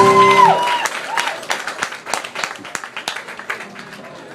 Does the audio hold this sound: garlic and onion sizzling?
no